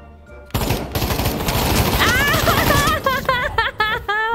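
Gunfire in a virtual reality shooting game, heard as a dense, loud burst of rapid shots that starts abruptly and keeps going, with whistling, warbling tones rising over the barrage in the second half.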